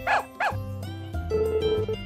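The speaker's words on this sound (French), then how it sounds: "Tiens, je savais pas que les chiens errants vivaient ici." Barking from stray dogs in the farm game Story of Seasons: A Wonderful Life, two sharp close barks in quick succession at the start, then a soft game-music melody carrying on alone.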